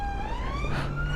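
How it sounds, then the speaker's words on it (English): A wailing emergency-vehicle siren sweeps steadily upward in pitch through a town in Warrington, loud and continuous over low traffic rumble, with no talking. "Oh, there's lots of sirens in Warrington today."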